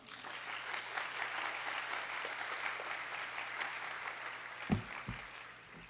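A church youth congregation applauds steadily, the continuous clapping fairly quiet and distant, with a dull thump near the end.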